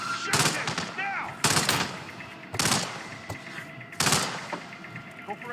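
Automatic gunfire in the video game Hitman comes in four sharp, loud bursts spaced about a second apart, with quieter game sounds between them.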